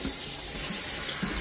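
Water runs steadily from a kitchen tap over saltfish being rinsed, a loud, continuous splashing rush that holds for the whole stretch with no voices.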